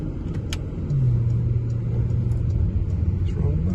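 A 2019 Porsche Panamera GTS engine restarts after an automatic stop, a quiet cabin suddenly joined by a low, steady engine hum that settles into a smooth idle drone, with faint clicks above.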